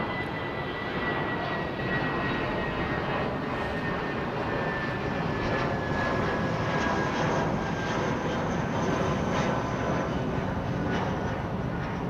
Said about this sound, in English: I've got a 380 on the runway, mate.